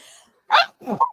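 Two quick allergy sneezes in succession, close and abrupt, following a faint bit of sound at the start.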